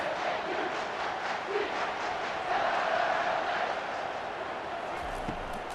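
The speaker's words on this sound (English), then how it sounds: "Crowd turned up." A steady stadium crowd roars in College Football 25 as the home side pushes into the red zone in a night game, a broad continuous wash of cheering with no clear breaks or separate voices.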